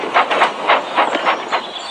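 A Tomy toy train engine, Edward, runs along its track with a rhythmic, chuffing hiss that pulses about four times a second, close and fairly loud, alone.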